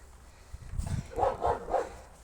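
A dog growls low and then lets out three short, close barks in quick succession, with no talking.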